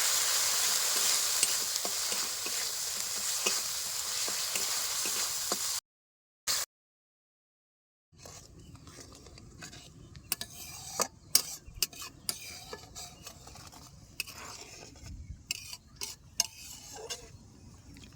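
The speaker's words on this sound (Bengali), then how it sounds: "এবার দেবো স্বাদ মতো নুন মশলাটা আবার ভালো মতো একটু কষাই নেবো" Spices and salt are stir-fried in a pan for a village-style puti fish curry, first a loud continuous sizzle, then a short silence, then quieter frying with sharp scrapes and clinks of a spatula against the pan.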